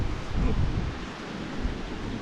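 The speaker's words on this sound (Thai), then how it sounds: "ทั้งลมทั้งฝนนะครับผม" Wind and rain lash a mountain campsite at Mon Ku in Thailand during a night-to-morning storm, a steady loud roar with buffeting gusts close to the microphone throughout.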